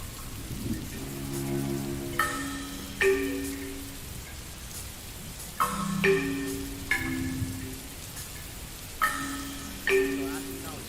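Steady rain fills the background of a remade Sly Cooper game soundtrack, a soft continuous hiss running under sustained musical tones and repeated chime-like notes across the whole stretch.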